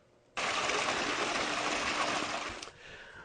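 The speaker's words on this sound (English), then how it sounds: "here's a waterfall running from our stub up" A pool waterfall feature fed from a G-Force water stub up on the deck turns on suddenly, a steady close gushing splash of falling water that runs for a few seconds and then drops away, with no talking.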